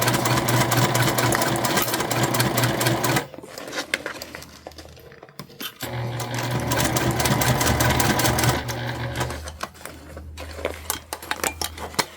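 Sewing machine basting zippers onto fabric, a loud close rapid stitching whir running for about three seconds, pausing amid light handling clatter, then a second longer stitching run before tapering off.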